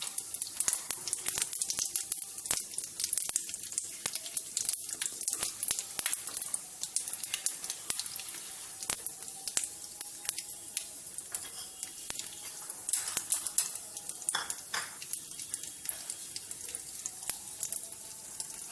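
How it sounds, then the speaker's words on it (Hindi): Chillies, cumin seeds and bay leaves sizzling in hot oil for a tomato and tamarind chutney, a dense, crackling hiss with constant spitting pops, close and steady throughout, with no talking. "और अब मैं मिर्च, जीरा और तेजपत्ता को इसमें इस तरह से डाल दूंगी।"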